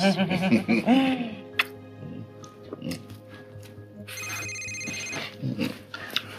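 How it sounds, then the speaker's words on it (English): A work phone rings with a repeated electronic ringtone, heard in bursts over a low steady hum, with voices and a chuckle at the start. "Oh, don't answer it. It's the work phone."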